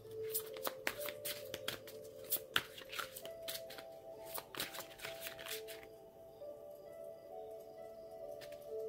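Playing cards are handled and shuffled close by on a table, a run of soft crisp riffles and flicks, busier at first and then thinning to light rustles, fairly faint with no talk.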